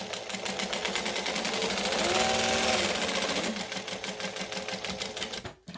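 A sewing machine stitching handbag seams hums and clatters in a fast, continuous rhythm close by, running for most of the clip before stopping abruptly at the end.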